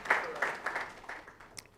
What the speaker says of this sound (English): A round of applause to him.